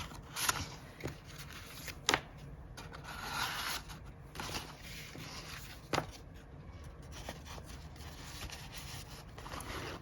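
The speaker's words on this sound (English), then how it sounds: "let's go ahead and put them inside our little pouch" Paper note cards and envelopes slide and shuffle into a small handmade accordion pouch, a few crisp papery scrapes and taps up close over quiet room tone.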